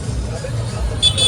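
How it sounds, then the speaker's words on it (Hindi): Busy city street traffic in Pune's Camp area, a constant rumble of passing cars and buses with a louder swell near the end, mixed with crowd babble and nearby voices. "भैया. ट्रैफिक देखो."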